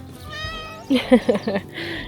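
A house cat meows several times, close and loud, in quick rising calls with a slight drawn-out cry at the end, in a quiet room.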